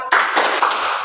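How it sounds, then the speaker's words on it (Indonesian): A standing school class claps the short rhythmic 'tepuk semangat' chant, three quick group claps close and clear with no talk. "Nah, tepuk semangat."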